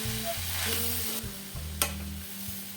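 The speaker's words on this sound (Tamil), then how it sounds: "இப்போ தேங்காயை போட்டதுக்கப்புறமா நல்லா நான் வந்து வதக்கி விட்டுடுறேன்" Grated coconut for lemon rice sizzles in a hot pan, with an underlying hiss and occasional scraping strokes of a spoon stirring it, close and moderately loud.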